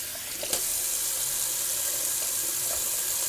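Tap water runs steadily into a sink as alum is rinsed off a face during a budget shave, a soft continuous splashing with one brief knock near the start, fairly quiet and with no talking.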